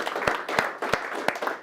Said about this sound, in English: Let's give her a round of applause, shall we?